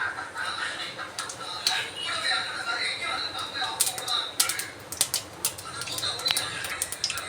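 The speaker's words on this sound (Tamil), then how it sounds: "கடுகு நல்லா பொரியட்டும்" Mustard seeds splutter in hot oil in a kadai with scattered sharp pops and crackles, irregular and close, over a low frying hiss.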